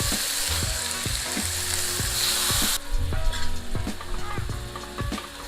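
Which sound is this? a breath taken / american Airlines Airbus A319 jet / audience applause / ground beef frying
ground beef frying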